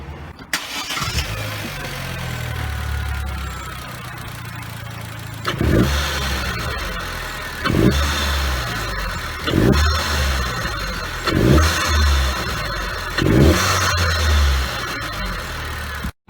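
A Vauxhall VXR car engine with its standard air intake idles steadily, then is revved in five short, evenly spaced bursts, each dropping back to idle; close and fairly loud.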